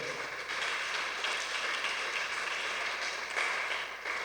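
A church congregation applauds God, a dense, even wash of clapping from a crowd that swells slightly toward the end, heard at some distance with no talking over it.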